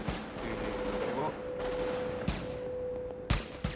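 Gunfire from the video game Tom Clancy's The Division: short bursts of shots and sharp cracks over a steady hum of game sound, loud and close, with a few spaced impacts near the end.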